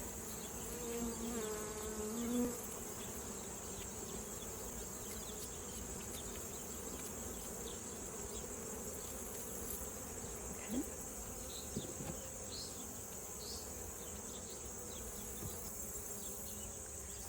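A steady drone of many honey bees buzzing continuously around a hive during a honey harvest, with occasional individual insects passing closer over a constant high hum.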